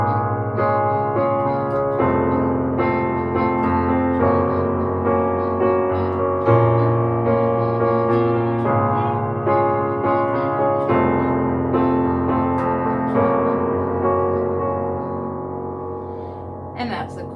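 Piano plays the chorus chords of a song in a steady rhythmic pattern, sustained chords repeating close and clear without voice, fading out slightly at the end.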